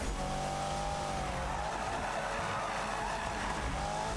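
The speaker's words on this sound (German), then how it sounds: "das Auto driftet hier auf jeden Fall nicht so gut" A racing car in Need for Speed (2015) drives hard and drifts, its engine droning steadily with squealing tyres throughout, loud and continuous.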